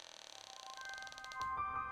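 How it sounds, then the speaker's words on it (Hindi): Slow, drawn-out creak of a door swinging open in a horror story sound effect, a steady rising groan that stretches out and ends in a brief clunk, heard alone and fairly quiet. "हमने उस कमरे का दरवाजा धीरे से खोला।"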